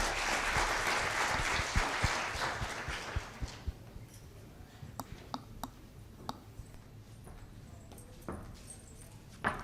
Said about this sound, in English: Please join me in giving her a warm round of applause.